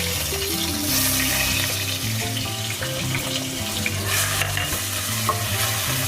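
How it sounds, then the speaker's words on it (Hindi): Garlic and ginger hitting hot oil in a pan for a Memoni khausa, giving a loud, continuous sizzle and spatter with stirring scrapes running through, no talking. "अब ऑयल में मैं लहसुन अदरक डाल दूँगी।"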